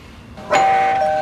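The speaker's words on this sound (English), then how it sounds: "is ringing the doorbell" A single electronic doorbell chime rings out after a brief quiet moment, its clear tone sustaining to the end.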